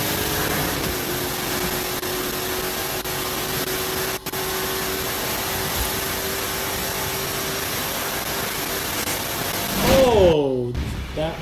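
A Forza Horizon 5 rally car with an anti-lag turbo and a side exhaust spitting flames produces a loud, steady, droning engine roar that holds for several seconds, then swells and breaks into a rising, sweeping burst near the end.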